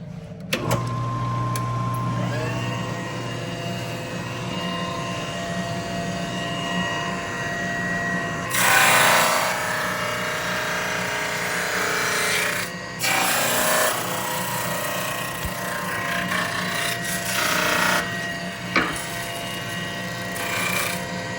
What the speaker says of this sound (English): this drum sander, and sand off the top layer